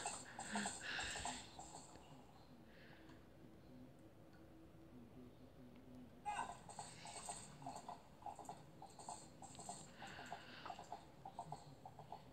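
Horse hooves in the video game Zelda Twilight Princess, a rapid rhythmic clip-clop of galloping that pauses briefly and resumes, faint and steady with no talk over it.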